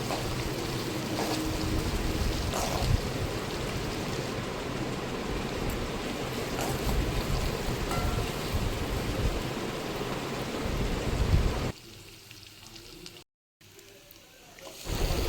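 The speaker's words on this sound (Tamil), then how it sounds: "வெங்காயத்தை நல்லா வதக்கி விட்டுடலாம்." Onions sauté in a pan for potato rice, giving a steady close crackling sizzle that stays strong for most of the time, then drops away sharply near the end before briefly returning.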